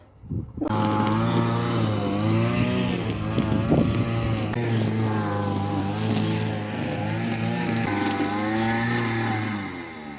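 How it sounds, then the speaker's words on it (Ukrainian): A lawn mower cutting grass in a rural yard on the Saturday before Easter, with a tractor also working nearby: a steady, loud, close engine drone that hums continuously without breaks. "і косилка гуде"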